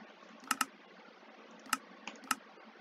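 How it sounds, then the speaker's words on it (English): A mouse clicks in a quiet room, faint, sharp paired double clicks with a couple of single clicks spread over a few seconds. "It's double clicking."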